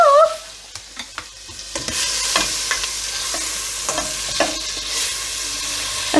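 Butter and olive oil sizzle gently in a pan on low heat for tomato and bean soup, a soft continuous frying hiss with a few light scrapes and clinks of a utensil.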